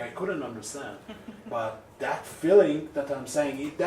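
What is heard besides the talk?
No everyday noises stand out.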